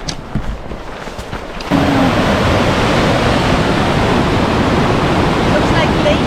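A rushing river of brownish-gray glacier water, passed on a mountain motorcycle ride, roars in as a loud, steady broadband wash after a quieter opening second and holds unbroken to the end.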